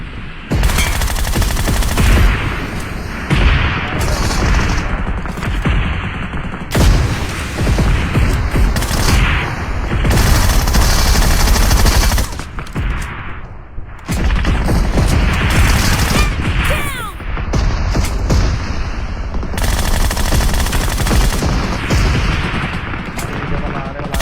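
Gunfire in the mobile battle royale game PUBG Mobile, in the Flora Menace mode on a floating tower: dense, loud, continuous bursts of automatic fire and explosions lasting over twenty seconds, with only brief lulls and faint talk mixed in.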